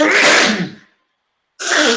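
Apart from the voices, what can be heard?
sneeze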